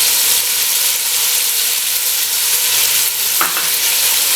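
Chicken fries with spices for chicken pilau, producing a loud, constant hissing sizzle close to the pan with one brief scrape of a utensil near the end.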